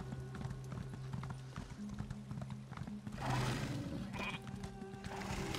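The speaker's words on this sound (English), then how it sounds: "I switched back to using my horse right here" A horse mount in the video game Elder Scrolls Online, with steady rhythmic clip-clop hooves over a droning music bed, a whinny-like swell midway, close and clear with no talk.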